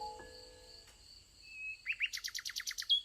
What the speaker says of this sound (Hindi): प्यारा पक्षी खूबसूरती से गाना शुरू कर देता